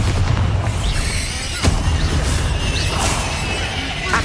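A Bombarda blasting spell in Hogwarts Legacy, a loud, dense rumbling explosion with a sharp crack partway through, continuous booming noise and whooshing game effects throughout.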